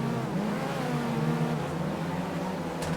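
IndyCar race cars on the Indianapolis 500 formation lap, a steady droning engine note with rising and falling harmonics from several cars, with no break in the sound.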